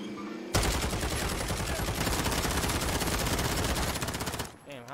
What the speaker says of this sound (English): I took his head off with these fucking dual-wield pistols